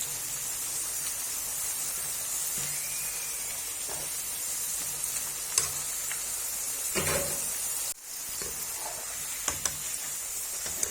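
Potato chips frying in hot oil in a kadhai that is lifted and shaken so the slices don't stick. A steady bright hiss and sizzle carries throughout, with a sharp shift and clatter midway as the pan is moved.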